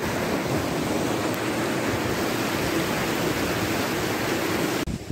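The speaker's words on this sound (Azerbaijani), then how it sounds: "Şəlalənin yaxınlığına gəldim, çatdım." Mucuq waterfall near Qabala, Azerbaijan, reached after a mountain hike, gives a steady, dense roar of rushing water that stays loud and unbroken throughout.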